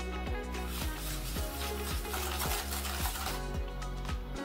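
Sponge cake batter with eggs is beaten by hand in a bowl, producing a steady rhythm of close, regular whisking strokes roughly twice a second over a continuous tonal background.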